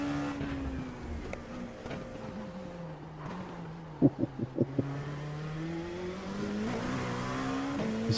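An LMP2 prototype race car in the iRacing sim drones steadily through the gears, its engine tone sweeping down and up, with a short run of sharp clicks partway through and a rising rev near the end.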